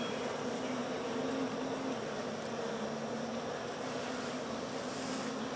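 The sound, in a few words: honey bees buzzing around hive frames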